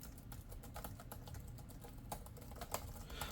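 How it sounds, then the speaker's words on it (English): Rapid, steady clicking of ASUS Zenbook 14X OLED laptop keys being typed on, close and fairly quiet, with no voices. "Let me see if y'all can hear the keys."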